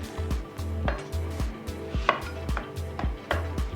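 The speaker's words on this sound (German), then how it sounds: "Zwiebelschneiden ist ja auch immer so eine Sache." A knife chops onions on a cutting board in a quick, even rhythm of about two crisp thuds per second, close and clear, with no one talking.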